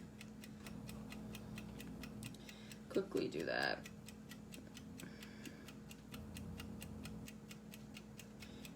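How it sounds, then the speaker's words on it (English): A kitchen timer ticks in a fast, even, faint rhythm throughout, while someone speaks briefly partway through and a little kitchen clatter sits underneath. "All I can hear is the ticking from that timer."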